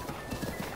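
Horse hooves clattering in a fast gallop during mounted combat in the video game The Legend of Zelda: Breath of the Wild, a close, steady run of soft thuds lasting under a second with no talk.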